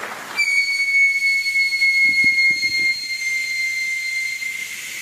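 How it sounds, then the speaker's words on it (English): A kettle's high, steady whistle as it comes to the boil rises sharply at the start and holds near and loud, with faint clatter under it. "I think the kettle's boiled."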